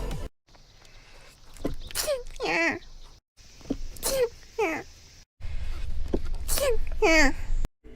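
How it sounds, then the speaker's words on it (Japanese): Three small, high-pitched sneezes from a female virtual streamer, cut together one after another, each a quick squeaky burst with a breathy intake before it. "ごめん、くしゃみ出た。"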